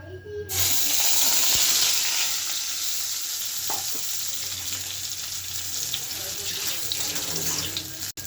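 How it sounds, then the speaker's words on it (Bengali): Eggplant pieces coated with chili powder, turmeric and a little oil sizzle steadily in hot oil in a wok, a loud, continuous close-up hiss with faint clinks of stirring. "হালকা ভেজে নিব, বেশি ভাজব না।"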